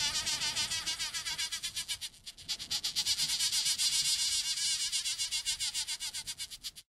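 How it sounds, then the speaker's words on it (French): A bee buzzing as a story sound effect, a loud, close, continuous pulsing drone with rapid rhythmic wingbeat flutter and a brief dip midway before cutting off abruptly. "Une jeune abeille qui venait butiner le pollen de la fleur."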